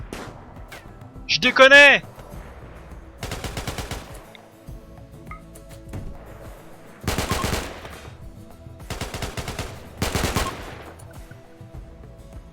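Enemy gunfire in the RimWorld video game: several bursts of rapid shots come in separate volleys over several seconds, moderately loud, with someone speaking briefly between them.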